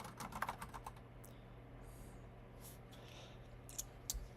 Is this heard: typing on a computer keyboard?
yes